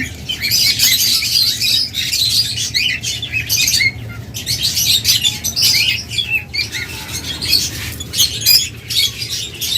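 Pairs of caged lovebirds chirping and squawking continuously, a dense, loud overlapping chatter of many birds nearby, with brief dips in between.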